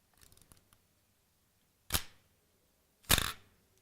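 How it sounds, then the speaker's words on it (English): A DSLR camera shutter set to a slow speed fires twice, each time a sharp mechanical snap opening then closing about a second apart, loud and close, after a few faint clicks. "Actually, the shutter will just open and close like this."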